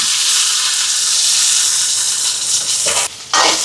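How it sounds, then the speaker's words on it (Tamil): Onions, fennel, cumin, curry leaves and green chili sautéing in a hot pan give off a loud, constant close hiss and sizzle that briefly drops out near the end, then returns. "இப்போ வெங்காயம் எல்லாம் வதங்கிட்டு பாருங்க"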